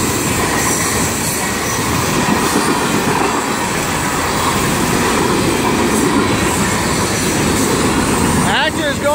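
A long freight train of tank cars, boxcars, flatbeds and quarry cars rolls past close by at a fair clip, a continuous heavy rumble with wheel clatter and occasional squeal; someone talks over the passing train.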